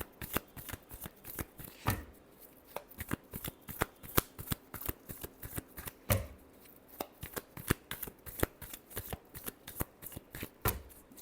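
Tarot cards being shuffled by hand in a quiet room, a long run of crisp, rapid riffling flicks with a few heavier taps as the deck is squared.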